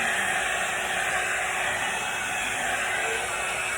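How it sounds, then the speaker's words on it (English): A hair dryer blows with a steady, loud, close rushing roar and a faint underlying hum, unbroken throughout. "I can just use this hair dryer and the broom together."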